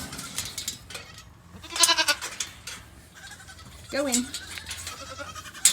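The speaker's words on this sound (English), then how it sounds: "And a goat that's supposed to be in here." Goat bleating on a farm during morning livestock chores, several wavering bleats rising loudly at intervals, close by and mixed with a person talking and shooing animals.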